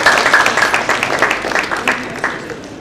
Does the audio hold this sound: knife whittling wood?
no